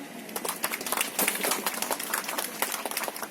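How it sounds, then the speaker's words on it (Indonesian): A small crowd at a groundbreaking ceremony for a mosque claps in a lively, uneven patter of distinct hand claps, close and moderately loud throughout. "Tepuk tangan."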